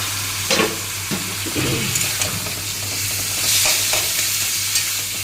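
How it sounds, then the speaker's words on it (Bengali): Taro greens with prawns being stirred in a hot pan, a steady sizzle with scraping spoon strokes across the pan, close and clear, with no talk. "এবারে এইটা এইভাবে নেড়ে চেড়ে নামাতে হবে"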